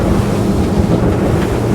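Strong wind roars over choppy water and buffets the microphone loudly and continuously aboard a 2022 Fjord 38 Xpress motorboat, with no voices.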